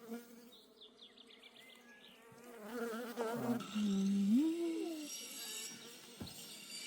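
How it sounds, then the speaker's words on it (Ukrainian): Honeybees from a weak colony being shaken out into a hive, a soft steady buzzing that swells louder midway, with a few handling knocks and rustles. "Або не заморочуватися, висипаю зараз. Сюди бджіл."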